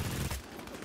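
Rapid gunfire in Vampire: The Masquerade - Bloodhunt, a dense, loud burst of shots up close that eases off into a quieter rattle within a second.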